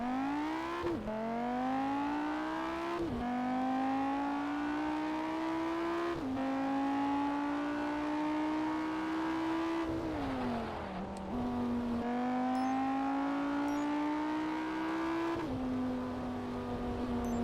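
A Lamborghini in the Test Drive Unlimited racing game revs loudly and continuously while driving, engine pitch climbing through each gear then dropping sharply at several shifts, with no talk over it.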